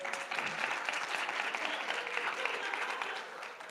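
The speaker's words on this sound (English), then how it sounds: "They deserve another round of applause too" Student audience at a 2018 ASUA Senate candidate Q&A giving senators another round of applause, a sustained, even crowd clapping of moderate volume that tapers slightly at the end.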